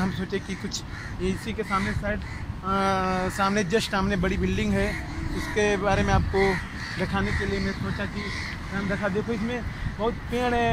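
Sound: birds calling in trees

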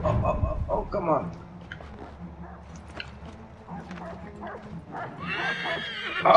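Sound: horse neighing in a video game

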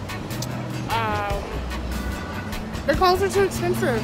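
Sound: road traffic passing by

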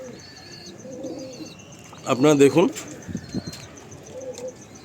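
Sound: young pigeons cooing

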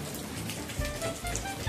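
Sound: light rain falling

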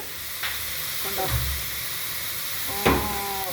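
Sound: onion and carrot frying in coconut oil

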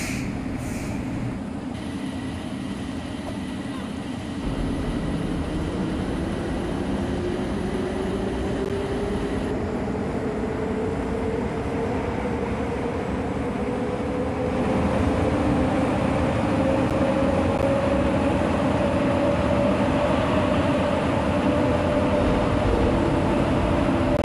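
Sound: Bombardier Innovia APM 300 train departing station in Roblox video game

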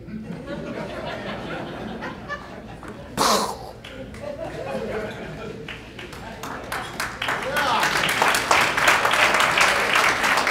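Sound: audience applause

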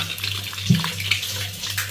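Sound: water flowing from a newly installed faucet

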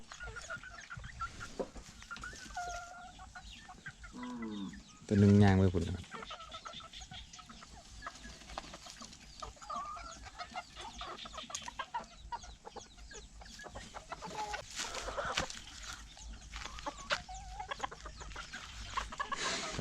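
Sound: bantam chickens clucking

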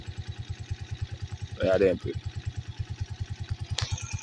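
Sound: motorcycle engine running before being switched off

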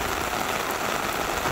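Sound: heavy rain

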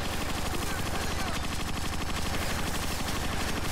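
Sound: machine gun fire in Transformers Rise of the Dark Spark video game

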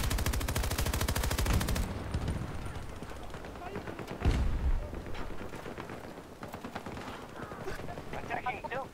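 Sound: PKP machine gun suppressive fire in Battlefield 2042 video game

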